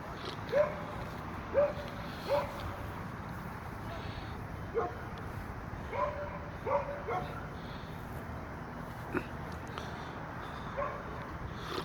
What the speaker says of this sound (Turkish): Köpekler neredeyse birbirine girecekti.